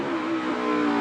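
A NASCAR Cup car at Sonoma Raceway gives a brief, loud, steady engine drone with a strong harmonic tone, heard alone and without talk.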